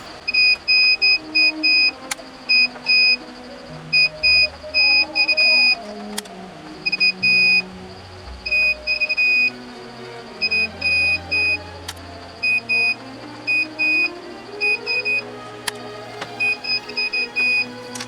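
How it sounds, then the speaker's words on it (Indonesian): A multimeter in continuity buzzer mode beeps while switch contacts are tested, sounding in short repeated bursts of steady high tones that start and stop irregularly, some longer and some clipped, alone with no talking. "Uji koneksi saklar dengan mode buzzer pada multimeter. Level bip menandakan kualitas koneksinya."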